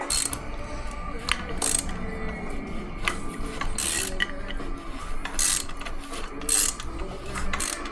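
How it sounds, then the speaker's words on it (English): Mechanical clicking and ratcheting as a 2013 BMW S1000RR motorcycle engine is turned over by hand with spark plugs in, with periodic hissing bursts of compression at an uneven, slow pace. "The spark plugs is in, that's why you're hearing the compression"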